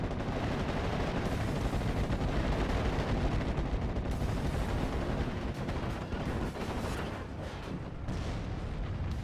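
Anti-tank gunfire rattles on a World War II battlefield in a strategy video game, a dense, continuous barrage of shots and blasts filling the whole stretch at steady loudness.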